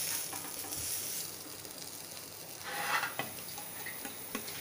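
Paneer cubes fry in a pan for a veg club sandwich, hissing in a steady, quiet sizzle with a brief flare of louder spitting midway and a few small clicks and ticks of the pan.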